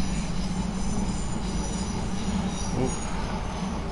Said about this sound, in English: It's the train going past at the moment.